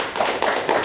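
An audience at a farming lecture gives a short burst of applause, loud and close. It lasts under a second, with a couple of clustered claps.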